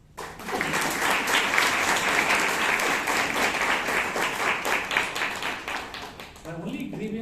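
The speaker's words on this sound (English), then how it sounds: "give him applause" Applause from the audience at a Toastmasters meeting in Bangalore, dense and sustained hand clapping for several seconds that tapers off as a voice begins speaking near the end.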